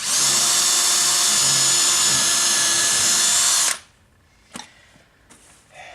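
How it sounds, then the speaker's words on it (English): Power drill driving a screw into a horizontal surface mount lock, a loud continuous whir for several seconds that stops abruptly, followed by a few faint handling knocks. "go ahead and take your drill"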